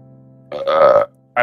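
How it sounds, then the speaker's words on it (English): A single loud burp lasting about half a second, close to the mic, followed by a short burst of another sound right after. "I burped."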